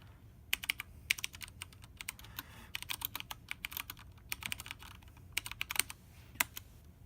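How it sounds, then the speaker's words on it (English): Steady typing on a mechanical keyboard with MX Brown switches, close and fairly quiet, giving clusters of soft clacks from keys bottoming out, with brief pauses between bursts. "Specifically the MX Brown switches, which don't have any audible feedback except the key bottoming out"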